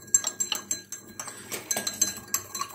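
Rock salt being stirred in a bowl to dissolve it for cauliflower pickle, giving a steady run of close, light clinking and scraping strokes in an even rhythm, with no voices.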